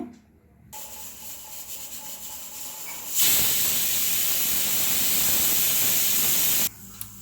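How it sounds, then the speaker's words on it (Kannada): A pressure cooker on the stove releases a loud, continuous hissing whistle that rushes in suddenly and holds steady for several seconds before cutting off, after a quieter stretch of faint kitchen hiss. "ಈಗ ಕುಕ್ಕರ್ ಮೂರು ವಿಸಿಲ್ ಬಂದಿದೆ"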